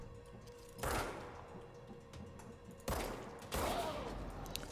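Gunfire in the video game Control, a few sharp bursts at moderate level over steady game ambience, with short quiet gaps between volleys.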